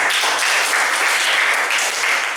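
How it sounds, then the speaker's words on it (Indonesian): Classroom applause from students, a dense, steady wash of clapping that holds at full strength throughout, loud and close with no talking over it. "semuanya tepuk tangan untuk kelas yang luar biasa"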